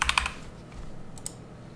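A computer keyboard typing a small numeric value into 3D animation software: a rapid burst of crisp keystrokes at the start, then a couple of isolated taps a second later, close and fairly quiet.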